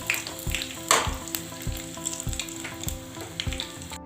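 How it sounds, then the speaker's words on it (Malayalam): Green chillies sizzle in hot oil where mustard seeds have just popped, a steady crackling fry with scattered sharp pops and light stirring, close and moderately loud with no talk. "കടുക് പൊട്ടിക്കഴിയുമ്പോൾ നമുക്ക് പച്ചമുളക് ഇട്ട് കൊടുക്കാം."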